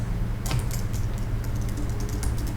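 Keys tapped on a computer keyboard in a quick run of light clicks, most distinct in the first half and then scattered, with a steady low hum underneath and no voices.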